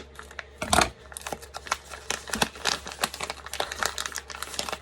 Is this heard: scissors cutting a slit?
yes